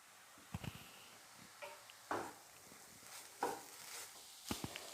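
Oats kanji with papaya stirred in a pan over high flame, giving a few scattered soft scrapes and light knocks against a quiet background, with no voices.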